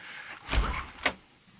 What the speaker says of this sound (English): Back through our heavy double doors